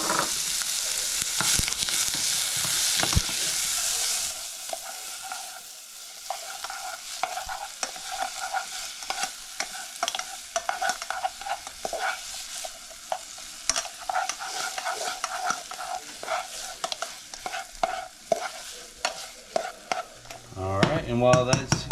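Onions and garlic sauté in butter in a pan, a dense crackling sizzle that starts loud and then settles into a steady spitting fry with scattered pops and occasional utensil scrapes, no voices.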